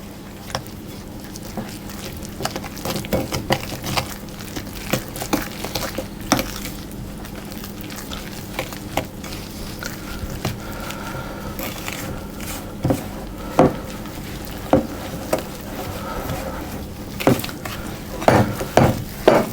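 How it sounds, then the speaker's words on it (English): Batter being stirred in a copper pan as milk is mixed into flour, a steady scraping and sloshing with small clinks of the utensil against metal, close and continuous with light background noise. "And I'm going to add about half of the milk, and I'm going to mix that around."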